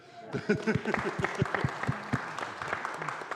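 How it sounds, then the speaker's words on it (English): An audience at a gathering claps after a speaker is introduced, scattered individual claps building into moderate applause, fairly close, while a voice speaks briefly over it. "let's have another round of applause for her."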